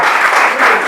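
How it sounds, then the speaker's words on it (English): Loud, dense applause from a game show audience fills the whole brief moment, steady and close with no talk over it. "Clap for her."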